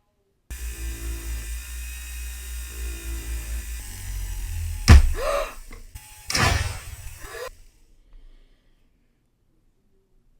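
Rotary tool fitted with a ball burr cutting into a metal halo ring, a close whirring drone with a sharp bite of grinding, then a second burst before the motor winds down to silence.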